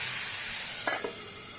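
Onion paste frying in a pan for a Bengali begun bahar eggplant dish, a steady close hiss of sizzling oil with a couple of brief stirring scrapes partway through.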